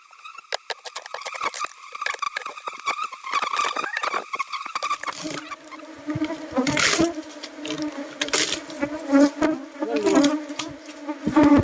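Cavity-nesting honeybees swarm from a hive built inside a car tire, filling the air with a steady, close, continuous buzz. It swells into louder bursts as more bees fly out partway through.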